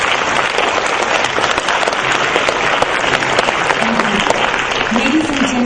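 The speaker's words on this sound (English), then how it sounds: "Can I have a very big round of applause for all the students, please?" Sustained, loud round of applause from an audience at a student awards and valedictory ceremony, a dense continuous patter of many hands, with a voice faintly heard underneath.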